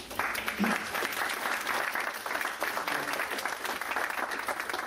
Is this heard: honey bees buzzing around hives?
no